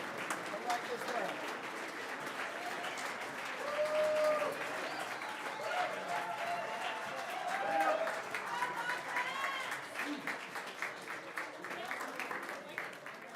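Audience applause at a city council meeting honoring a school team, moderate and steady clapping from a sizable crowd with voices and cheers mixed in throughout.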